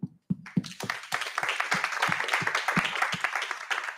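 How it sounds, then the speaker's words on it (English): A few scattered claps quickly swell into steady, lively applause from an audience at a live fireside chat on crowdfunding. "Big applause for you."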